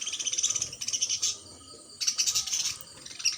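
Pet lovebirds in a cage chirp in rapid, bright trills, two close bursts separated by a short pause, loud and alone.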